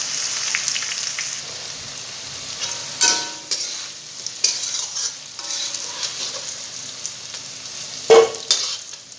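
Potatoes being lightly fried in a pan sizzle steadily and close, with occasional louder spattering bursts and scrapes as they are turned.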